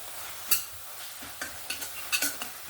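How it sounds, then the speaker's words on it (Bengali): Ground spices, including coriander powder, chili powder and Kashmiri chili powder, fry in a pan for an egg and cabbage dish, with a steady quiet sizzle and several scraping stirs of the spoon. "দিয়ে মশলাটাকে ভালো করে আবারও দু তিন মিনিট ধরে কষিয়ে নেব"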